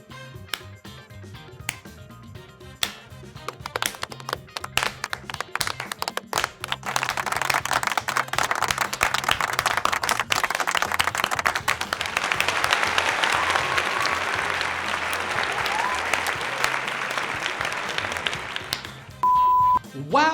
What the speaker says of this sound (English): let's give a lively shout out and a slow clap